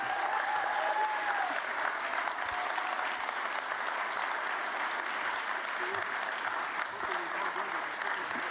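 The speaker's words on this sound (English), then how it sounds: "Right, let's have another big cheer for all of our winners here tonight." A large audience at an evening summit awards event applauds continuously, a dense, steady wash of clapping held at an even level throughout with little rise or fall.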